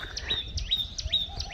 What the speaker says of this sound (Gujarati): ચકલીનો અવાજ તમને આવતો